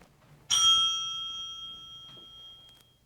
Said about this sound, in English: Casper, you have 60 seconds when you hear the bell